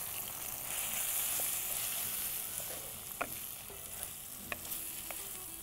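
Eggplant pieces tossed with spice masala powder in a hot pan: a quiet, even sizzle with a handful of light, sparse clinks and scrapes from stirring, no speech.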